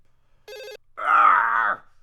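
A short electronic phone ring trills once, then a drawn-out groaning voice follows; no other sounds around them.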